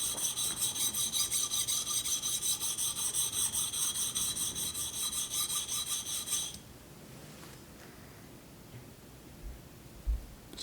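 A woodworking chisel rubbed flat on a sharpening stone, rhythmic gritty rasping strokes for about six seconds that then stop, leaving quiet room noise and a couple of faint knocks.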